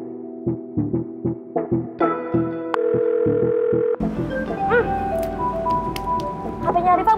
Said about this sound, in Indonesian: HP-nya Riva bunyi nih.